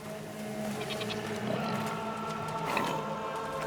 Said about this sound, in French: Il y a quoi par là? Des chèvres!